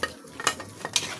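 A pot of simmering food being stirred, a short close sequence of scraping and sloshing strokes over a soft bubbling sizzle.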